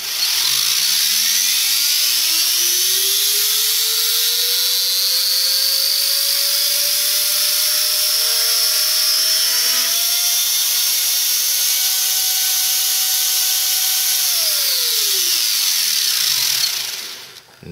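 An RC helicopter motor driven by a Turnigy AE-45 ESC spools up from rest into a steadily rising, loud whine that holds high before winding back down at the end, with no talking.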